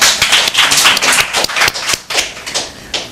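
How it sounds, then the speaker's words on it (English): A live audience claps along at a performance, loud close rhythmic hand claps in a brisk steady beat with slight unevenness, no voices. "Clap your hands behind that."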